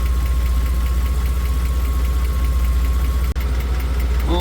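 A BMW E38 750i V12 engine idles in a steady, even drone with a fine rhythmic ticking pulse, heard up close and uninterrupted apart from one brief dropout near the end.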